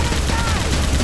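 Dense, loud gunfire from the Left 4 Dead 2 video game during a zombie fight with armored zombies, a continuous rapid barrage filling the whole short burst with no pauses.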